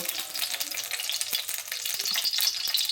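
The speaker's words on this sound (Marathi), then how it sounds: "तेल फोडणी करता आवाज येत असेल" Oil crackling and sizzling in a kadhai during phodni tempering for butter pav bhaji, a steady bright hiss with scattered pops, close and fairly loud with no talk.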